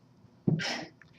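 A single sharp human sneeze bursts out at close range in a lecture setting, a brief intake followed by a loud, breathy explosive release.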